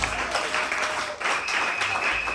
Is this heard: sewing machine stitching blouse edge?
no